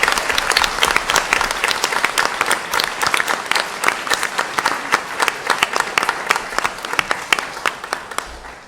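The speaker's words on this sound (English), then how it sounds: "How about a round of applause for Lloyd?" Sustained, dense applause from the audience at a school district board meeting, honoring a student; many hands clapping steadily and fairly loud for the whole stretch, fading slightly near the end.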